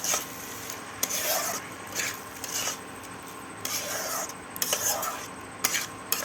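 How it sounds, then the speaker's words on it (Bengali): Rice and spices being stirred in a pan for a fish-head muri ghonto, with repeated rasping scrapes of a spoon against the metal over a soft, continuous sizzle. "এবার আমি চাল আর মশলাটাকে ভালো করে আমি নাড়ানাড়ি করে মিশিয়ে দেব"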